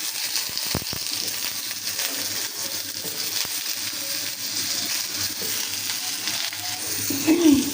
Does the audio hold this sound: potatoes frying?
yes